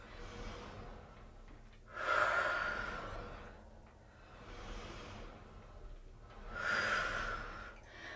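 Two loud, drawn-out exhalations during a Pilates reformer back exercise, each about a second long and separated by quieter breathing, close and clear with a low machine hum underneath.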